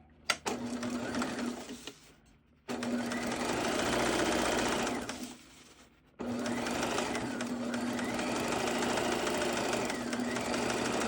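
A sewing machine stitches fabric for a baby outfit in two long whirring runs separated by short pauses, close and fairly quiet, after a brief click at the start.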